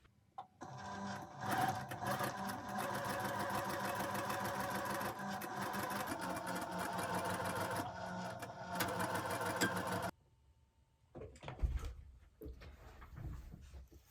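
A sewing machine runs steadily for about ten seconds, stitching quilt block pieces for a pressed-flowers hyacinth block, then stops; after a pause, handling noises and a few short bursts follow, with no talking.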